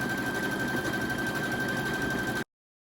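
A regular sewing machine running an overcast stretch stitch on a T-shirt neckline, a steady rapid mechanical whir and rattle at close range that runs for about two and a half seconds and then cuts off abruptly.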